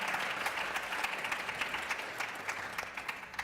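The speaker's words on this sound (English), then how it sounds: "Massive round of applause, guys." A short burst of steady clapping from an audience at a live panel event, dense and even, with no voices over it.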